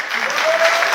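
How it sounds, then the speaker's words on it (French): Audience applause at a stand-up comedy show, a brief dense burst of clapping that stays steady and fairly loud throughout. "Applaudissez les Français pour voir ce soir qui sont là."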